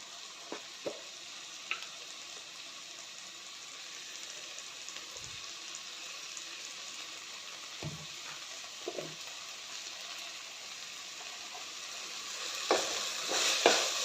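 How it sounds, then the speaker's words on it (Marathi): Onion, tomato and ivy gourd sautéing in a pan for a simple tondli bhaji, a steady soft sizzle with occasional stirring scrapes and light clinks, fairly quiet and close, with a brief louder stir near the end. "आता हे चांगलं सॉफ्ट होईपर्यंत भाजून घ्यायचं आहे"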